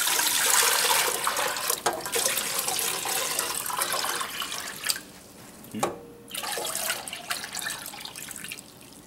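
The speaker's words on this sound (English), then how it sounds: "First we're going to add 5 quarts of water to our pot." Five quarts of water pour into a cooking pot for Cuban-style black beans, a loud, steady rushing splash that stops abruptly partway through, leaving a quieter stretch.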